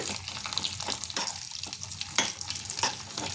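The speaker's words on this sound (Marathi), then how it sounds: "हलके आपल्याला भाजून घ्यायचे तुपामध्ये।" Grated carrot roasting in ghee over low heat, with repeated close scraping stirs against the pan over a light continuous sizzle and no talking.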